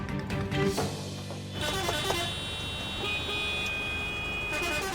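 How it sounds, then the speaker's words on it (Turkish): Car horns honk in short toots and then long sustained blasts amid the rumble of road traffic, loud and close. "Ya siz de ne basıyorsunuz kornaya?"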